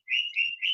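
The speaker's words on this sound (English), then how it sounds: "My birds are going to be singing, but I think everyone there who has birds knows that." Pet birds singing indoors, three clear whistled phrases in quick succession, bright and close with near silence between them.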